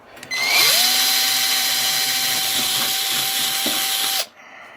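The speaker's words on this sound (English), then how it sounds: "Drill the hole" A power drill bores a hole into a small 2-inch firework shell, a steady high whine rising at the start, holding for about four seconds with hissing grind, then cutting off abruptly.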